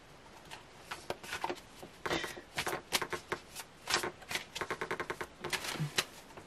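A deck of tarot cards shuffled by hand: close, crisp riffling and slapping in uneven bursts, the papery flutters coming fast, then pausing and starting again.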